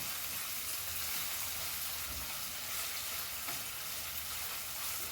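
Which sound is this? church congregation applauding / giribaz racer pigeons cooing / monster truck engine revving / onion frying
onion frying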